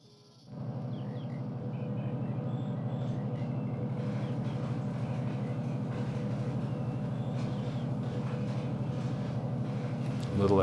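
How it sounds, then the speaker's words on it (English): Alco S2 diesel switcher locomotive labouring under a heavy train, a low steady engine rumble that comes in abruptly and holds, with faint clanks and rattles over the drone. "Alco S2 is really struggling mightily with this train"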